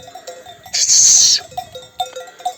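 A flock of sheep with cowbells in a green highland pasture on Kovucak plateau, Mudurnu, Bolu. A loud burst of bright, clanging bells rises over soft bleats and shuffling, then fades back to sparse ringing.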